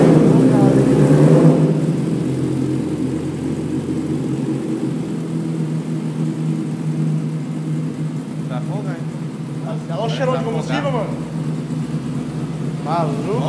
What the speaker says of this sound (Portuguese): Olha, nem parece que tá ligado a moto, mano.